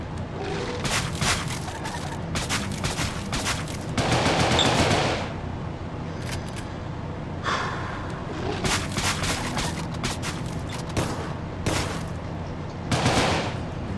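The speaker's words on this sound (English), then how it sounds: "A shotgun missed." Shotgun gunfire in the video game Deadbolt, loud repeated blasts and clattering bursts in dense clusters over a constant game soundscape, with a few quieter pauses between volleys.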